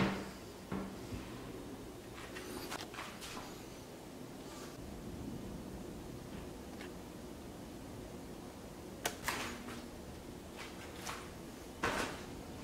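A kitchen cabinet door with an old hinge without soft close being opened, giving a few short clunks and clicks over a soft hiss, close and quiet.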